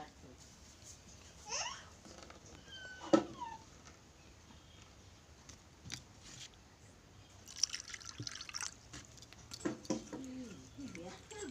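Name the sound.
washing dates in water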